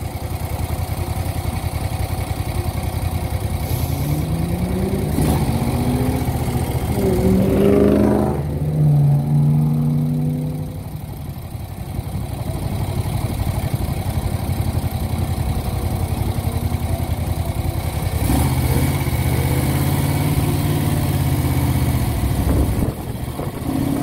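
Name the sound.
1970 Moto Guzzi Ambassador motorcycle engine shifting through gears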